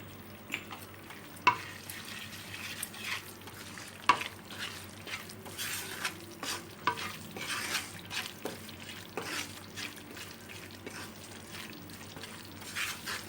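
Ground coriander, cumin and garam masala powders fry and are stirred in a pan on a stove set to low heat while making a spicy Andhra prawn pickle; soft continuous sizzling with repeated scraping spoon strokes and occasional sharp clicks.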